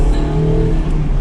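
A 2021 Mazda MX-5 Miata RF Club's engine blips loudly and up close during a rev-matched downshift, a short, throaty burst of engine note with no voices.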